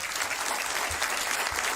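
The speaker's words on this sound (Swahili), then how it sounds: "Hebu pigeni makofi ya all the achievements" An audience claps steadily at the Taita Taveta National Polytechnic graduation ceremony, a dense, even wash of applause from a large crowd throughout.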